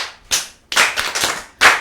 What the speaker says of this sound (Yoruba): Ẹ pàtẹ́wọ́ fún Abigail